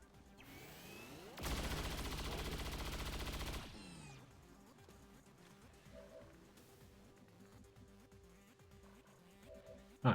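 Automatic weapon fire from XCOM 2 Long War of the Chosen, aimed at an Andromedon, roars in one sustained burst of about two seconds, framed by whooshing effects and followed by low game ambience with small beeps.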